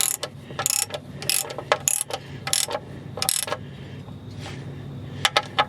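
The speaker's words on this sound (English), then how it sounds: "Put that on there, crank that down." A hand ratchet tightens the CVT transmission drain plug on a 2011 Nissan Altima, giving loud, close bursts of rapid clicking in several quick strokes, followed by a pause and a few last clicks, with no talking.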